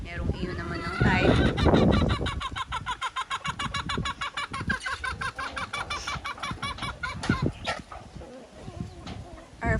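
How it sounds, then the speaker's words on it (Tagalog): Organic chickens raised for homesteading keep up a steady, busy stream of clucks and squawks close by, with a short louder burst near the start and what may be a dog barking among them. "So these chickens are being raised for homesteading purposes for our own food consumption."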